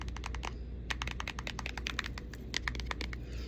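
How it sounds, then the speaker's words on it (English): Fingernails tap quickly on the cardstock of an indie oracle deck, a close, crisp run of light clicks in an irregular rhythm, with a soft pause near the start and no voices. "we got to give it a nail check. How does it sound on the nails?"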